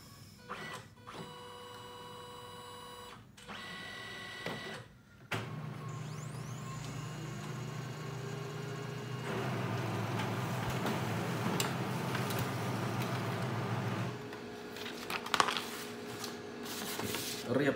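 A Brother MFC-8910DW laser multifunction printer copying both sides of an ID card, with clicks and mechanical whirring, then a steady motor hum and paper feed noise, heard close and fairly quiet.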